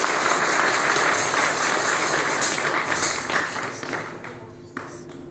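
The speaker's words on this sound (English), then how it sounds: "Now please clap once again for Nitya Leela Prabhu Narayan Goswami Maharaj Ji" Crowd applause at a Hindu devotional gathering honoring Narayan Goswami Maharaj, a steady dense wash of clapping that slowly thins toward the end with a single sharper clap near the close.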